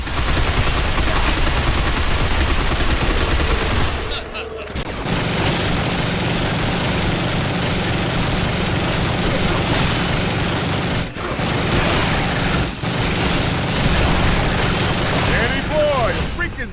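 Heavy gunfire rattles nearly continuously while shooting robots in Binary Domain, loud sustained bursts with mechanical clanks, briefly dropping out a few times, with someone talking over much of it.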